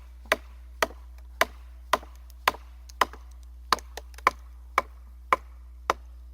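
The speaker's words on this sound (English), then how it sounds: "the more force you swing behind the blow, the deeper in your wedges or axe will go" An axe or wedges strike firewood logs being split, a dozen sharp woody knocks at a steady pace about every half second, close and crisp against a quiet low hum, nobody speaking.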